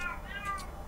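A cat in Zelda: Tears of the Kingdom lets out a brief meow, a quick rising-falling call over soft, steady ambient game sound.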